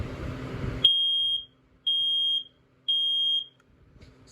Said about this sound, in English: So this one beeps slower than my i9030.